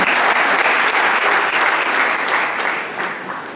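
Audience at a felicitation function for a doctor clapping steadily, a dense, loud round of applause from a crowd that tapers slightly at the end.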